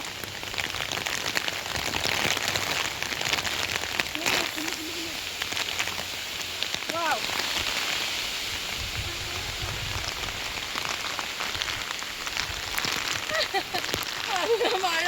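Steady rain pours down on a rocky hilltop, a dense continuous hiss of drops striking stone, loud and close throughout with no break.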